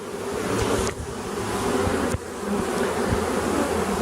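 Honeybees hum and fan at the hive in a dense, continuous close buzz, with a couple of brief knocks breaking through.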